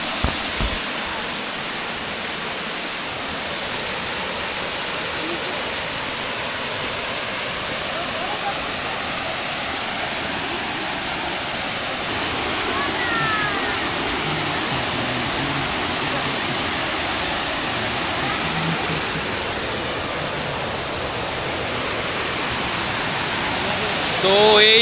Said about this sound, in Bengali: এই সিঁড়ি থেকে নামলেই ফলস পেয়ে যাবো, কারণ ভালো শব্দ পাওয়া যাচ্ছে।